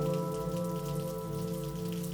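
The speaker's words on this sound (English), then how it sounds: "Rain as usual." Steady rain patters on a surface as a continuous soft hiss with scattered drops, even and unbroken throughout, fairly quiet, with no voices.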